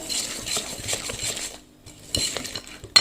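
Butter and powdered sugar are mixed in a bowl for caramel butter shortbread with peanuts, giving close, irregular scraping and clinking of a utensil against the bowl, pausing briefly midway before resuming.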